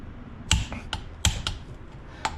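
Torque wrench clicks sharply on a Harley-Davidson touring motorcycle's new Galfer brake screws, with a few distinct clicks and taps spread over a couple of seconds, close and clear against a quiet garage background.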